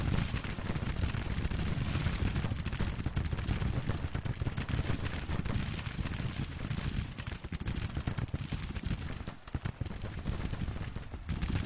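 Civil War cannon firing canister in the Grand Tactician strategy game, heavy booms mixed with crackling musketry in an unbroken, rumbling barrage at steady loudness.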